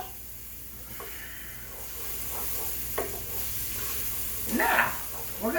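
Minced garlic sizzling in a pan for crawfish Alfredo, a soft steady frying hiss with a few light stirring scrapes near the end, no talking.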